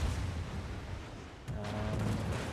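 Small-caliber naval gun fires in a World of Warships battle, a single sharp boom arriving midway and lingering as a rumbling tail over steady ocean and engine drone.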